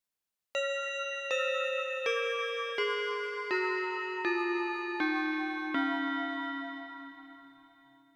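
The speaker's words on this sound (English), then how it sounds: "Next, a group of notes that moves down." Eight bright, bell-like musical notes step downward one after another at a steady pace, each ringing clearly before the final low note decays slowly.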